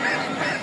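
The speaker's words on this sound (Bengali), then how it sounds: "দর্শক আমরা এখানেও দেখছিলাম প্রচুর হাঁসের কালেকশন দেখতেই পাচ্ছেন" Domestic ducks at a busy poultry market give a brief, near, loud honking quack, a single nasal call lasting under a second.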